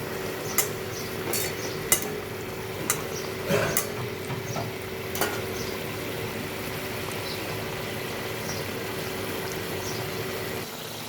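Fish pieces go into a simmering curry, bringing a steady low bubbling and sizzle, with a handful of sharp clinks and taps from a utensil against the pot as it is stirred.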